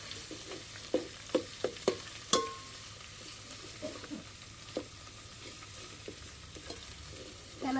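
Ground masala paste frying in hot oil over a wood-fired chulha for Dhangari mutton, with a low steady sizzle and a series of sharp scraping and stirring clacks from a spoon against the pan, no voices.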